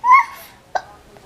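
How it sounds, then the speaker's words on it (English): A single cartoon-style hiccup from an episode of The Loud House, a short voiced gulp with a sharp little catch after it, close and clear, with no talk around it. "You have the hiccups."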